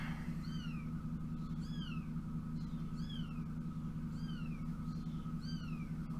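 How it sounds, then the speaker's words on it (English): Kittens meow repeatedly in short, high mewing calls, fairly faint over a steady low hum. "Yeah, you're hearing kittens."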